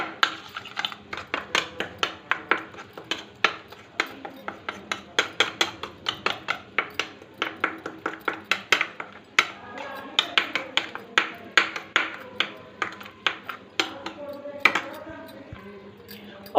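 Chana dal with ground red chili and turmeric being mixed in a pot, a steady run of sharp, close metallic clinks and scrapes of a spoon against the pot, fairly loud, with speech heard only briefly.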